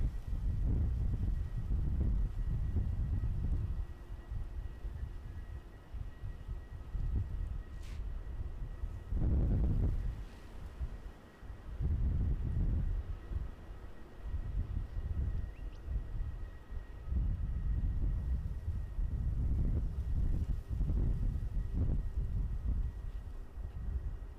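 Gusty wind buffeting a microphone at Edinburgh Airport, Scotland, low rumbling bursts that rise and fall over about twenty seconds, loud and close.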